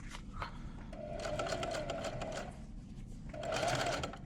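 A sewing machine runs a wide, medium-length zigzag stitch over frayed denim jeans, humming in two steady bursts with a short pause between, close and clear with no speech.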